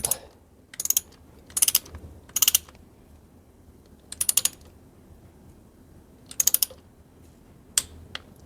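A torque wrench tightens a bolt on a Suzuki 1800 Intruder motorcycle during a service, heard as short bursts of rapid ratcheting clicks repeated about seven times with quiet pauses between, close and without talk.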